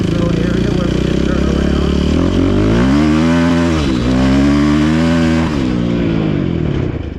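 A dirt bike engine drones steadily and loud right at the microphone while riding, its pitch sliding up and down with throttle changes, with voices heard over it.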